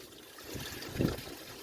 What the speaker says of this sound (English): Nice clean water coming out of the radiator now.